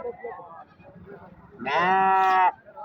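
Sheep and lambs at the Amingad sheep market in Karnataka, with one loud, sustained bleat rising clearly above quieter crowd chatter and background bleating.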